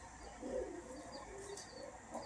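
A newly bought pair of pet shop pigeons give low, soft, repeated coos at close range, with faint chirps above a quiet background.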